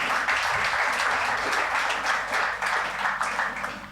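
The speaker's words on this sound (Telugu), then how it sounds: "గంభీరంగా చప్పట్లు కొట్టండి." A church anniversary festival crowd claps steadily throughout, a dense wash of applause that holds at an even level before easing slightly at the end.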